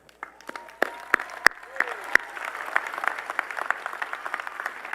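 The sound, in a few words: audience applause at a university speech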